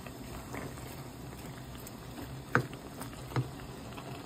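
Laing, taro leaves in coconut milk, boiling in a pot: a soft, steady bubbling simmer with a couple of louder pops or bursts near the end. It is close and fairly quiet, with no talk.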